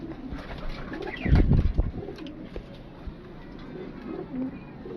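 Tankia pigeons at a pigeon sale in Lahore cooing close by, a burst of deep throaty coos in the middle with softer calls around it and faint background voices.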